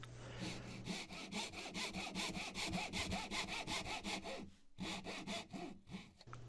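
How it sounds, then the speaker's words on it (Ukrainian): Dozuki hand saw cutting soft wood with steady, rapid back-and-forth rasping strokes, close and even, pausing briefly before the sawing resumes at the same pace. "Запилюю своєю ножівкою дозуки, вона дає чистий тоненький різ."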